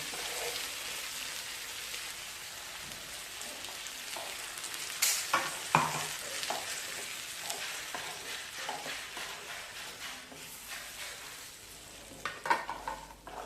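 Tomato puree fries in a pan with a quiet, steady sizzle like light rain, broken by occasional soft stirring scrapes and clinks. It stays faint and close, and no one speaks.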